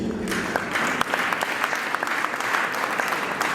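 Audience applause fills a hall at a national debate, public speech and poetry competition in Jinja City, steady and fairly loud throughout with no voices over it.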